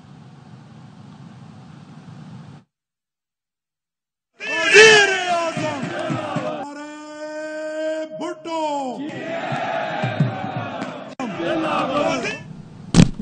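Rally crowd at a political gathering chanting slogans for Bilawal Bhutto, a loud voice leading over massed shouting responses, near and energetic after a brief silence, with someone speaking at the start.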